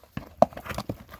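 A horse walks, its hooves giving a few irregular, close clip-clop knocks over about a second in an otherwise quiet space.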